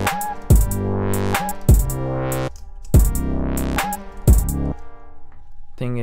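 Synthesizer lead with an auto filter for a grimy trap beat, playing repeated sliding, buzzy phrases over deep booming bass hits in a steady loop, loud and close without any voices.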